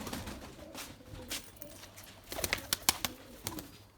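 Pigeons coo softly amid rustling and faint fluttering, with a few sharper clicks and taps close by in a quiet space.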